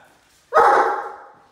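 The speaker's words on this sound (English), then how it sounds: "Ellie, that's you barking at Jack." A single loud Great Dane bark, close by, that stretches out into a drawn, fading tail.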